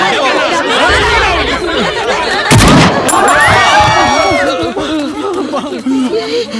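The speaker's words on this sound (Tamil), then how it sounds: "எப்படி சுட்டுச்சு? ஏப்பா சுட்டுடுச்சு." A single sharp, loud gunshot rings out in a Tamil comedy film scene, cutting through excited overlapping chatter and laughter from a group of people.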